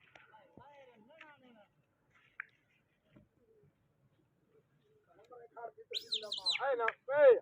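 Pigeons in a loft during hot weather, a few soft chirps and coos rising near the end after quiet stretches, with scattered faint sounds and a voice early on.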